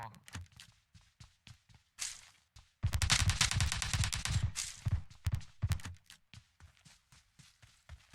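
Gunfire in the mobile shooter PUBG Mobile on the Sanhok map: scattered single shots and taps, then a dense burst of rapid automatic fire in the middle, with voices talking throughout.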